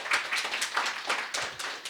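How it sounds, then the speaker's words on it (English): Audience applause at the close of a conference talk on migrating Miro canvas content from Postgres to an in-memory database and S3, a steady dense patter of many hands clapping in a room, moderately loud and without speech. "Right, a round of applause."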